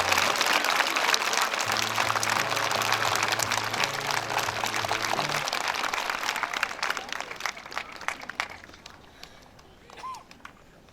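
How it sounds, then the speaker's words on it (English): Audience applauding at a middle school Patriots Day 9/11 ceremony, dense steady clapping for several seconds that gradually thins out and fades, with a voice or tone briefly audible near the end. "We could go ahead and have a round of applause for our group."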